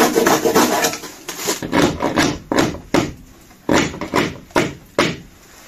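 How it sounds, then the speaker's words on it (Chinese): A large kitchen cleaver chops and scrapes at wood while insulation is prepared in an attic, with repeated sharp strikes and rasping rubs in an uneven rhythm, loud and close, with no voices. "大菜刀用上啊！"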